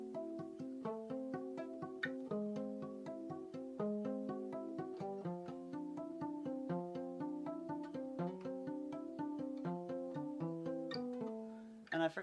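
Solo guitar plays the verse of Eat's "Tabs" in time, with rhythmic picked chord patterns, hammer-ons and a 6-5 suspension over the five chord. Steady and fairly quiet, with no voices.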